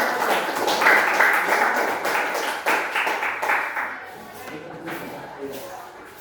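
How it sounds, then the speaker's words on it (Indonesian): An audience claps in applause at an evening gathering, a dense patter that is loudest early and gradually thins out, with a voice talking underneath. "Kita beri aplaus untuk"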